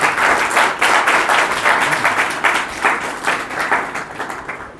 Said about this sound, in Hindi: तो उनके स्वागत में ताली बजाइए एक बार।